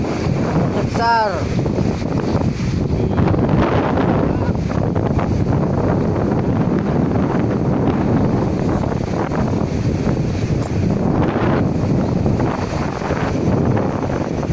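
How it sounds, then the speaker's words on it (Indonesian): Strong wind roars continuously across the microphone over big waves at sea in the waters off Kotabaru, Kelumpang Tengah, a loud, dense rush with surging water beneath and a brief voice early on. "Angin kencang."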